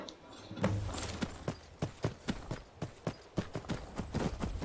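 Hooves of the horse Frost clip-clop steadily in Skyrim Special Edition on Xbox One, a dozen or so even, close thuds at a walking pace, with no talk over them.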